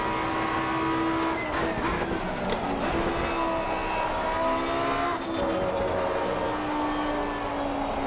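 A race car engine in Assetto Corsa Competizione drones and shifts pitch through gear changes, with brief sharp bursts and a continuous whine running throughout.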